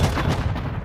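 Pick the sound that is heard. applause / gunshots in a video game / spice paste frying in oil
gunshots in a video game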